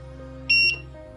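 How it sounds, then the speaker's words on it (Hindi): A short electronic buzzer beep sounds once from the timer of a solar-powered EV charging station as its increase button is pressed, a single clear tone of about a quarter second over a steady low hum. "प्रेस करने के बाद बजर बीप देता है"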